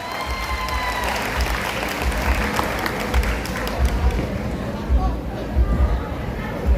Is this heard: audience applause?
yes